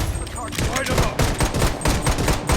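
Shotgun fire in the mobile shooter game Blood Strike: a rapid string of loud, sharp blasts in quick bursts during a squad fight, close and punchy, with brief gaps between volleys.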